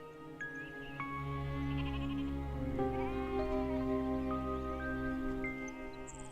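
Sheep bleat in long, wavering calls that overlap one another, close by with a low background drone.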